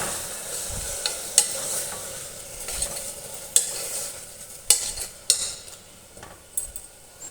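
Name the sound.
tomatoes frying and being stirred in pan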